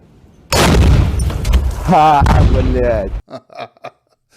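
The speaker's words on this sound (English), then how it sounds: "That looks like a classical Russian shoulder fire rocket system, like an Army's Law, like anti-tank weapon" Russian shoulder-fired anti-tank rocket launcher going off, a loud, close boom with a rushing roar lasting a few seconds, overlapped by shouting voices before fading into brief bursts and quiet.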